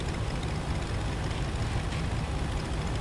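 Copper diesel engine of a work vehicle in the PS5 video game RoadCraft, a steady low rumbling drone that holds evenly throughout with no talk over it.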